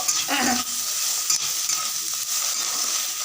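Egg, carrot, potato and cabbage stirred in a hot pan, a loud bright sizzle with a scraping stir near the start, then a continuous frying hiss, up close and without speech.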